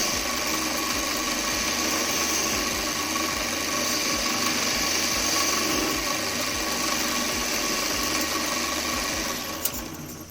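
A wood lathe hums steadily while a skew chisel cuts a V into spinning wood, producing a continuous close whirring scrape with a faint rhythmic pulse.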